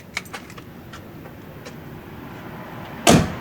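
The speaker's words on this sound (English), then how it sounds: "Close the door." A 2004 Mercury Grand Marquis car door shuts with a single loud thump near the end, after a few faint keys and clicks in a quiet garage.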